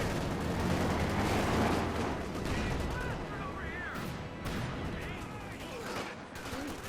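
Bazookas fire during a Company of Heroes 2 1v1 battle, Wehrmacht against US Forces. Dense, continuous gunfire, blasts and rocket whooshes overlap loudly and without pause.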